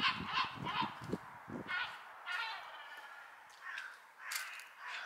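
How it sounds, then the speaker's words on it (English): Several raucous seagull calls in quick succession at the seaside, squawking cries up close at first, then fainter calls continuing in the background. "Bloody seagulls."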